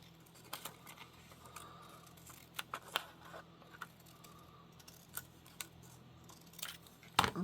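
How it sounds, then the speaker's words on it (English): Scissors snipping through Amazon packaging paper, a scattering of quiet crisp cuts and rustles close by at an uneven pace, with a louder crinkle near the end and no talking. "I'm just gonna get scissors for this time and just go based upon this white"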